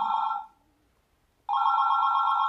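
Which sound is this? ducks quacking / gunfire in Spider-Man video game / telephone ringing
telephone ringing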